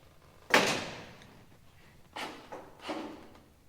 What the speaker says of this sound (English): want to open this door and feel how this door feels